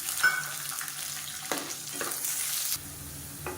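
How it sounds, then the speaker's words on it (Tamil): Garlic fries in oil with a continuous bright sizzle, a few sharp stirring scrapes and a brief clink, the crackle easing toward the end. "இப்போ மெஷரிங் கப்பில் 1/2 கப் அளவுக்கு பூண்டு சேர்த்துக்கலாம்"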